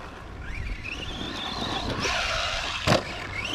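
An ARRMA Vorteks RC car driving on very loose dirt, its high-pitched electric motor whining up and down in pitch, with wind noise and a short louder burst near the end.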